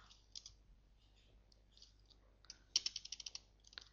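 Fingers type code on a computer keyboard. Soft, scattered key clicks give way to a quick, louder burst of rapid tapping near the end in a quiet room.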